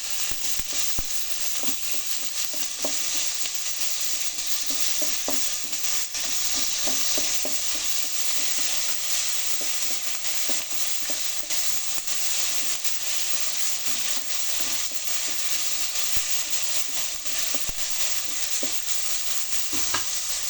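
Ingredients for a Tamil dry fish curry being stirred and sautéed in a pan, with a steady frying sizzle and intermittent scraping stir strokes throughout, close and continuous with no talk.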